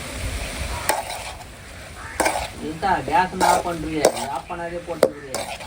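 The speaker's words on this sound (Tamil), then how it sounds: "கடுகு காஞ்சி மிளகாவும் பூண்டு போட்டுறேண்ணா" Mustard seeds, dried red chilies and garlic sizzle in hot oil in a home kitchen, a steady close crackle broken by sharp spatters and the scrape of stirring against the pan.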